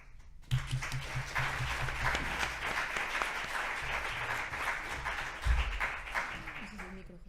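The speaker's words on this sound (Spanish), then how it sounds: "por favor os pido un aplauso muy fuerte para María Ángeles y Jairo" An audience breaks into loud, sustained applause that fills the room for several seconds, with a few voices and thumps underneath.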